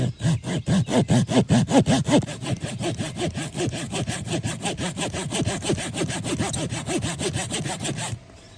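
A hand saw cuts a groove into a plastic bottle, with steady rapid back-and-forth strokes, loud and close. The rhythm is quicker in the first two seconds, then evens out, and the sawing stops just before the end.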